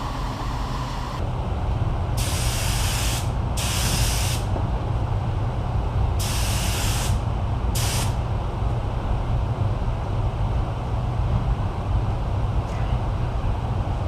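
Automotive paint spray gun laying down another coat, with loud hissing bursts of spray in four passes of a few seconds each over a steady low compressor and shop drone.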